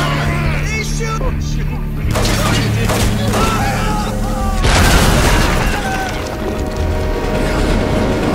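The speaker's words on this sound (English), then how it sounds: "Time for an iron duel with a high-caliber machine gun." High-caliber machine gun fire in the shooter Hatred, dense booming bursts and crashing impacts running throughout over game ambience, growing heavier partway through.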